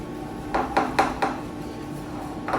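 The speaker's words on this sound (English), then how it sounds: "So back to my potato, keep giving it a stir." Potato puree stirred in a pan with a utensil, producing four quick clinking scrapes against the pan side followed by a pause and one more knock, quiet and close, no voices.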